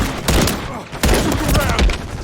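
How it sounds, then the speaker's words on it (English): Modern Warfare 3 match on the Terminal map, a stun grenade thrown amid dense gunfire: repeated sharp bursts and thumps, loud and close, with a brief lull just before one second. "Throwing a stun grenade."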